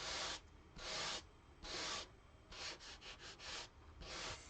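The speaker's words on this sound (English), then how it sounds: "sand the cardstock just very gently" Gentle sanding across cardstock paper resting on a silicone mat: soft raspy strokes in a steady back-and-forth rhythm, three longer passes then a quicker run of short rubs, close and quiet with no talking.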